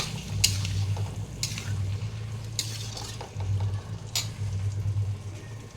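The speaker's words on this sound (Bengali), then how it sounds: "দিয়ে আবারও ওটাকে ভালো করে কষিয়ে নেব।" A paste of ginger, green chili, cashew and raisin being fried and stirred in a pan: steady close sizzling with repeated scraping strokes of a spoon against the pan, and no talking.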